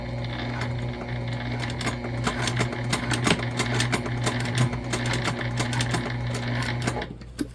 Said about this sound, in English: We're just doing a top stitch here, so 1/8 of an inch